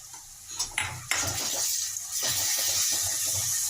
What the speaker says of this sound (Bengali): এই যে আমি মশলা দিচ্ছি, 1/2 চা চামচ লঙ্কা গুঁড়ো, 1 চা চামচ জিরে ধনে পাউডার, আর সামান্য একটু হলুদ